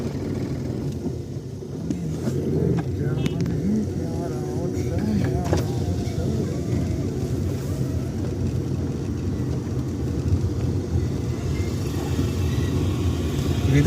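A car cruises along a road on a foggy 15 August morning, giving a steady, close engine and tyre rumble that holds evenly throughout, with voices talking over it.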